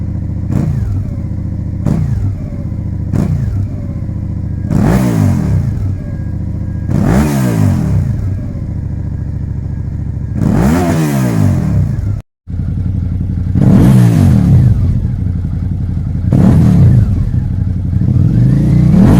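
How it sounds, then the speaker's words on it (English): A 2009 Suzuki Gladius SFE 650, a four-stroke 90-degree twin motorcycle, starts and is revved repeatedly, loud close bursts rising and falling in pitch, several throttle blips separated by idle, with a brief cutout midway. "eventually you're going to hear like the startup, revving the bike up"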